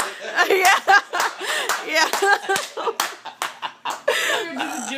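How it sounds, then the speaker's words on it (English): A handful of people clap and slap their hands in an uneven, slowing rhythm, close and fairly loud, mixed with chatter and a few chuckles. "Wait, slow clap. Somebody slow clap."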